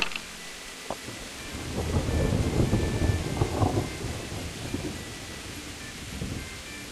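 Rain falls steadily with a rolling thunder rumble that swells through the middle and slowly subsides, heard in the medieval role-playing video game Kingdom Come: Deliverance; no talking over it.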